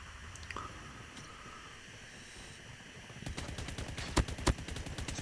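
Rapid bursts of PDW-57 submachine gun hip fire in a video game, a quick rattling string of shots building near the end, loud and close after a stretch of quieter game ambience.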